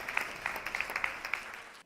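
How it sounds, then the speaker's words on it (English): An audience at a business awards ceremony claps for a presenter coming on stage, a moderate, somewhat distant patter of applause that stops abruptly at the end. "Just give him a round of applause while he comes up."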